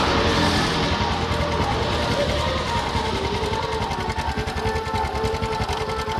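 A Honda Supra X 125 motorcycle engine idles with a rough, rapid mechanical ticking from a loose cam chain, steady and close throughout.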